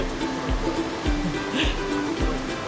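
A small river flows below a waterfall in the Serra da Canastra, Brazil, making a steady, close rushing wash of water with a few soft thumps beneath it.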